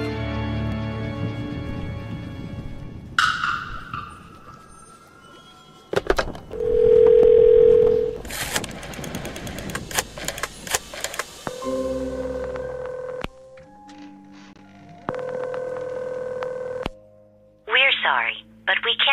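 An in-game telephone in the hidden-object adventure Phantasmat gives a steady dial tone and short dialing beeps and tones, separated by clicks and pauses, with a voice talking at times.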